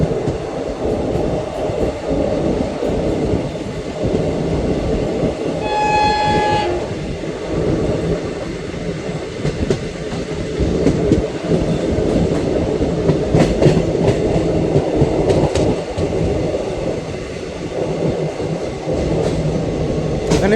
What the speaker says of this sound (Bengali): কৈলাসপুর ক্রস করছে বন্ধুরা এখন আমাদের ট্রেন